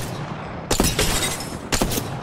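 Gunfire in the arena mode of the video game Apex Legends, two short bursts of sharp rapid shots close by, separated by a brief pause, over low background game noise.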